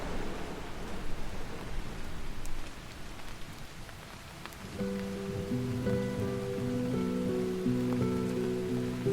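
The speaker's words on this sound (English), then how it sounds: "Depressions regularly sweep in off the Atlantic and deposit over 2 metres of rain a year in some places." Steady rain falls in a temperate rainforest in southwest England, a dense continuous patter of drops, with soft tonal music entering partway through.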